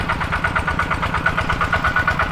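A single-cylinder tractor engine drives a DIY water pump, thudding in a steady, rapid putt-putt rhythm at close range throughout.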